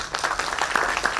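An audience at the ICDXA 2024 conference opening ceremony applauds in a brief, moderately loud burst of mixed clapping.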